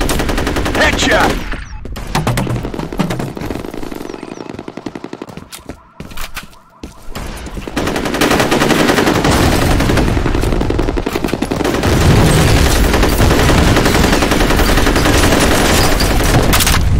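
Rapid automatic gunfire and bursts of shots from the multiplayer shooter F.E.A.R. Combat, loud and dense through most of the clip with a brief lull midway, then sustained firing.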